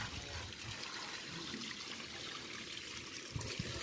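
Water poured in during a tractor service, a steady trickling, splashing flow that runs continuously at close range, with a slightly louder splash near the end.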